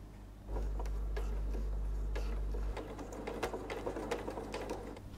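A sewing machine stitches along a polo shirt neckline, its motor running in a steady loud hum for a couple of seconds before giving way to quieter handling clicks and rustles.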